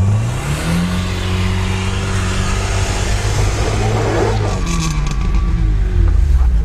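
A car engine revs hard during an off-road winter drive, a loud, sustained mid-pitched roar whose pitch climbs and shifts as the revs build, close and continuous throughout.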